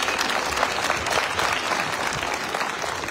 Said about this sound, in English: So let's give all three spheres of government a round of applause, ladies and gentlemen.